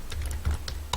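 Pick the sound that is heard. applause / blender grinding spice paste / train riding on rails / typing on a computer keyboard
typing on a computer keyboard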